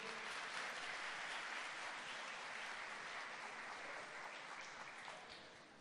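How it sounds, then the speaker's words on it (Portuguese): Steady, faint applause from a church congregation during a worship service, a soft continuous patter of many hands that slowly fades out. "Aplauda essa pessoa que está do seu lado aí"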